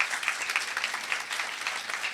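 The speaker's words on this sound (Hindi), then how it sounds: "एक बार खुदा के जलाल के लिए जोरदार तालियां बजा" A church congregation at a pastor's sermon applauds steadily and energetically for a couple of seconds, a dense wash of clapping with no voices over it.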